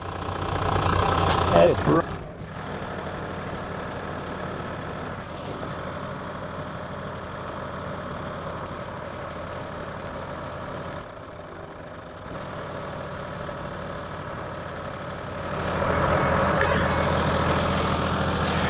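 A Jamec Pem Auto 1000 portable tyre inflator runs continuously while pumping a tyre from low pressure up to 40 psi. It gives a steady mid-pitched motor drone that dips briefly and swells louder again toward the end.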